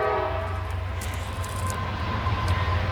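A train rumbling past near an interstate with a steady low drone and a horn sounding, continuous and fairly loud.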